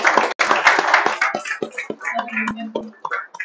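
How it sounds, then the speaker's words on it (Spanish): An audience at a Bible study gathering claps in a brisk burst of applause that thins out into a few scattered claps within a few seconds. "Un aplauso."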